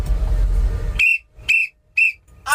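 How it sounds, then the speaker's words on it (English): A whistle blown in three sharp shrill blasts, each about a quarter second long and evenly spaced, after a second of low rumbling background noise. "Get my whistle ready."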